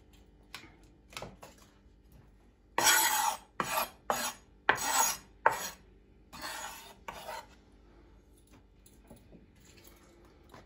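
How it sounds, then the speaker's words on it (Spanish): A small knife cuts through the base of a cabbage in a home kitchen, giving a burst of crisp, rasping cuts in quick succession near the middle, close and fairly loud, with quiet gaps before and after. "abajo lo vamos a cortar con el cuchito pequeño"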